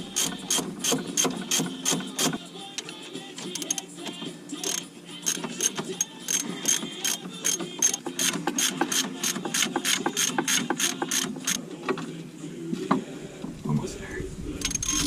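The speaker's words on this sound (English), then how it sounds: "I'm going to start to tighten them and get this coil out of here." Spring compressors are ratcheted tight on the front coil spring of a 2001 Jeep XJ, producing close, rapid metallic clicks in quick bursts that run steadily for most of the time before stopping near the end.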